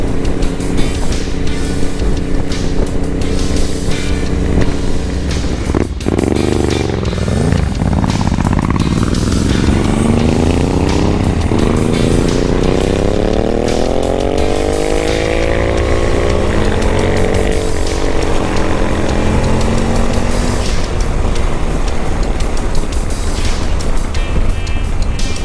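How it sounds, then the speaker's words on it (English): A Ducati motorcycle engine running nearby in the Cotswolds, a loud continuous rumble with rising and falling revs under steady wind noise. "the Ducati is really nice to look at and really nice to listen to"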